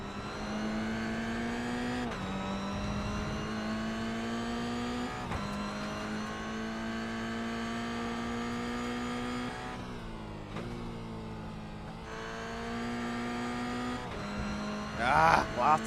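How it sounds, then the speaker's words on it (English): A Toyota GR86 race car in a sim racing game at Okayama, its engine droning steadily with pitch dropping under braking and rising again on throttle, shifting several times, with brief tire squeal near the end. "Let's see what he's doing with those hands, as well as listen into this brake and throttle work"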